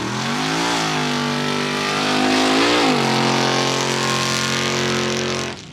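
A mud drag truck at a mud drag race roars loud and close, revving hard as it shifts through the gears, the engine note dipping and climbing twice before cutting off at the end.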